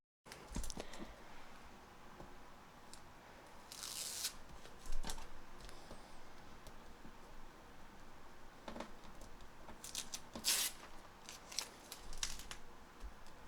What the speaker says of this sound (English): Let's take this washi tape off